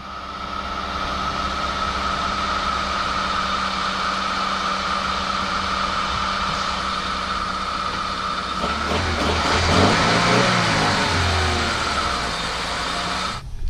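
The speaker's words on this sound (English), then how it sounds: "put it in first gear again with the car on, see if this wheel spins" A car engine drones steadily in first gear with a drive wheel spinning, a constant whirring hum that shifts and rises with a rougher, louder stretch near the end.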